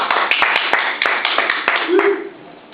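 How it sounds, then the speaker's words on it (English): A small group claps briefly after a presentation, a short burst of scattered claps mixed with talking voices, tapering off within a few seconds. "Round of applause."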